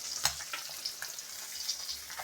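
Small river puti fish sizzling in hot oil in a village kitchen pan, a continuous near crackle with a few sharper pops and spatters.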